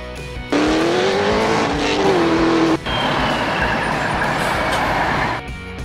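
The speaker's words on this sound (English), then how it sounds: "Race car." A race car engine roars steadily and loudly for about five seconds, its pitch climbing slightly, with a brief cut in the middle before it resumes at full volume.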